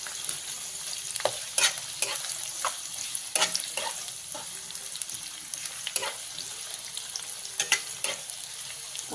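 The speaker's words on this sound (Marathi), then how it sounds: "तर आपण कांदा चांगला भाजून घेऊया." Chopped onion and two green chillies fry in oil in a pan, a faint steady sizzle broken by scattered clinks and scrapes of a spoon stirring.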